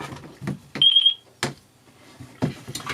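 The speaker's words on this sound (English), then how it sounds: "enter and you'll hear the binding beep" A FrSky receiver gives a short, thin, high electronic binding beep, a brief tone standing apart from close handling clicks and knocks before and after.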